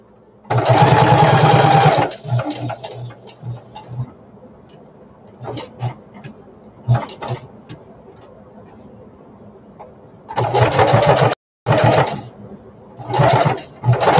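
A sewing machine stitches a simple diaper bag in short, loud, close bursts of rapid whirring, broken by quieter pauses with scattered handling rustles and clicks.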